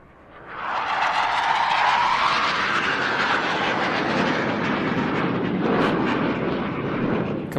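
A fixed-wing display aircraft flies an inverted pass at an airshow in Leszno, its engine roar rising quickly and holding steady and loud as it sweeps by, with a slow shift in tone.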